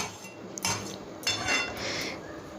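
A pot of pointed gourd and chana dal boils on high flame while a metal spoon stirs it, giving a few soft scraping clinks against the pot over a quiet simmering background.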